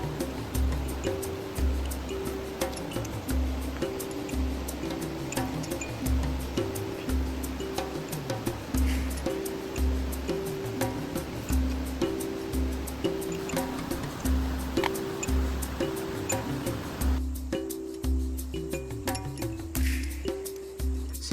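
A river flows steadily at a riverside spot during an outdoor meal, a soft continuous wash with a faint repeating tonal pattern layered over it throughout.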